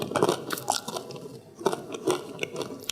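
Crunchy spicy taco chips being chewed close up, with irregular crisp bites and crunches spread across the moment, no talking.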